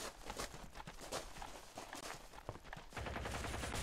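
Gunfire in the tactical shooter Ground Branch, with friendly fire among players: irregular, scattered shots and short bursts at moderate distance, some crisp, others dull, with footstep-like clatter between them and a denser burst near the end.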